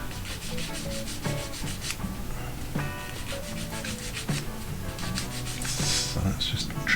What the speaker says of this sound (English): that is just to file this top part down a bit